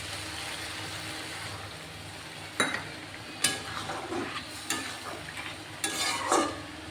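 Soft background sizzle of curry broken by several sharp bursts of hissing and scraping as a little water hits the hot pan and is stirred, close and intermittent.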